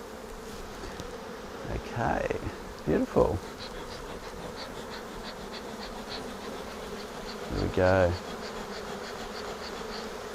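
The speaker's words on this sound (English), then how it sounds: "there's quite a lot of bees in this hive, which is great" Honey bees swarm around an open Flow hive, their close, continuous buzzing humming throughout while a person briefly speaks a few words over it.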